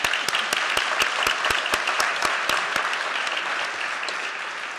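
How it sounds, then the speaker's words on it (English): An audience claps steadily at an evening university event honoring students, with dense, even applause and a few sharp nearby claps standing out, fading slightly toward the end. "Can we have a round of applause for our students"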